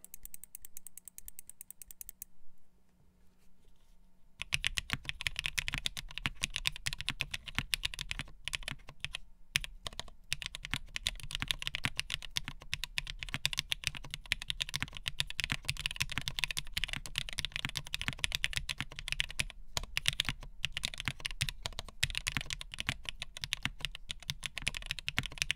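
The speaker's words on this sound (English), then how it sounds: "Let me do another bit of typing here." Rapid, continuous clacky keystrokes on a custom top-mount mechanical keyboard, close and crisp, following a few seconds of quieter setup noise before the typing begins.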